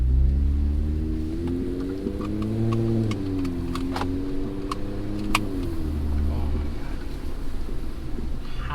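Jeep Wrangler JL engine running with a newly fitted aftermarket exhaust, a steady low rumble close by whose pitch rises and falls gently as it revs slightly, with faint clicks over the top.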